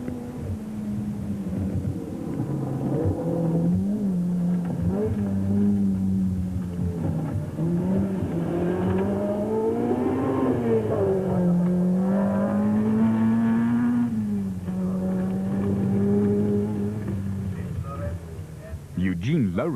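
A rally car is driven hard on a stage in the 2006 Sasol Rally, its engine note rising and falling as it revs through the yumps, with a commentator talking over it throughout.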